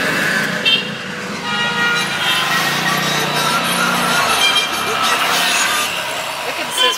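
Car driving through busy traffic in Lebanon, steady road rumble and engine noise with passing vehicles and a short horn toot near the start, continuing at a fairly even level throughout.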